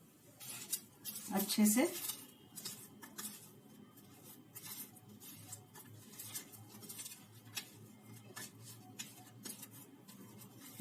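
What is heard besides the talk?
mixing mustard oil and spices into raw banana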